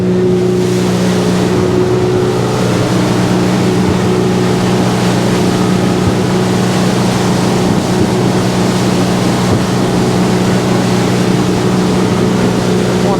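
A Cruise Craft E695 motorboat with a new outboard motor runs at speed near Lakes Entrance, its engine a loud continuous drone over rushing water and hull slap, steady from start to finish.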